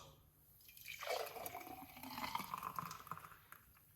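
Beetroot juice being poured for a few seconds, a gurgling, trickling stream that rises, splashes and tapers off, close by with no talking.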